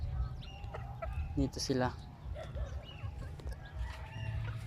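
Young chickens from a December-born brood cluck in a homemade pen right after feeding, with a few close, brighter chirps in the middle amid steady low background noise while a person speaks briefly.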